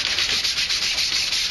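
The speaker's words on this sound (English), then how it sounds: "do a little light sanding so that the paint will take." Light sanding on a painted computer case, a steady close scratchy rubbing that runs continuously with a slight back-and-forth pulse, no voices.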